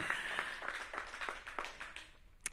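An audience applauding at a welcome event for the DC Defenders XFL team, quiet scattered clapping heard from a distance, fading toward the end.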